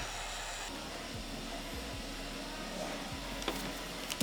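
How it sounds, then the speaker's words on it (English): A heat gun blows a steady, even rush of hot air while drying protective film on a Tesla Model 3, with a few faint knocks near the end. "And then you use a heat gun to kind of dry it."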